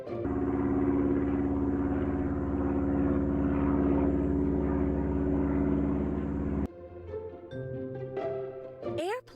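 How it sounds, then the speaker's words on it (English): A propeller airplane engine drones loud and steady for several seconds up close, then cuts off abruptly and gives way to brief scattered whistles and effects. "Airplane is a vehicle designed for air travel that has wings and one or more engines."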